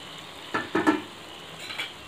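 Diced potatoes and masala spice powder sizzle and get stirred in a pan for bread upma, a low steady fry with a few quick scraping stir strokes near the middle.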